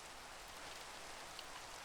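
Steady rain falls in the Minecraft modpack Craftoria, a soft, even hiss of drops that runs unbroken from start to finish with no talk over it.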